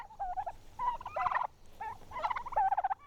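Farm-raised turkeys gobbling nearby, several bursts of rapid warbling gobbles in two clusters, fairly faint but clear over a quiet background.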